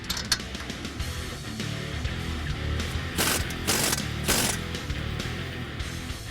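Ratchet or impact tool driving a strut bolt back in on a 2013 Ford Focus ST during a coil spring install, a close, steady mechanical rattle with three louder bursts of clicking near the middle.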